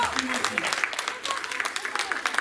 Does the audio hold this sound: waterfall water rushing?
no